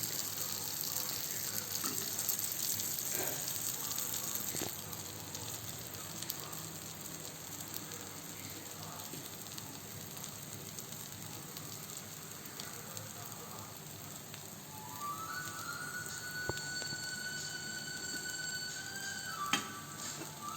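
Gunta ponganalu, batter in a dimpled paunniyaram pan, sizzle steadily in oil as a soft, continuous crackle. It is faint and even throughout, with a few light clicks and a thin rising tone near the end.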